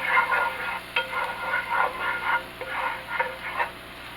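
Garlic sizzling in a pan on low heat for honey garlic chicken, a soft continuous crackle with light stirring clicks, close and moderate in level.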